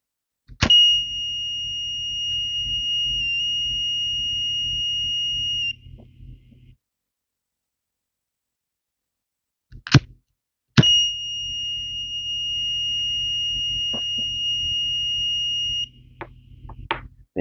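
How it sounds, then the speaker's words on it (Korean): A loud, steady high-pitched piezo buzzer alarm from an Arduino flame-sensor fire alarm, with a low hum beneath, sounding for about five seconds, stopping, then sounding again after a short silence. "화재 감지가 되면 부저랑 LED가 몇 초 정도 계속 켜져 있고 울리다가 꺼지게 되어 있습니다."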